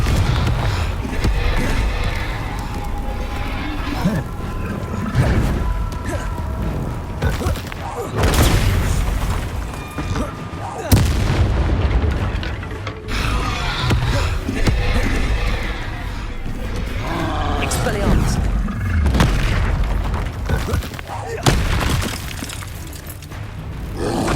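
Confringo fire-spell blasts in the Hogwarts Legacy video game, fought at Rookwood Castle: loud, repeated booming explosions with crashing, shattering debris over a dense, continuous battle din, with a voice occasionally heard.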